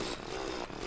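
A sawtooth shark chainsaw in the Terraria video game buzzes with a steady, droning motor whine that wavers slightly as it runs, close and moderately loud, with no speech.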